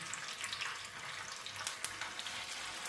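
Tofu frying in hot oil in a pan, a steady broadband sizzle holding evenly throughout with a few brief crackling spikes, close and alone with no talking.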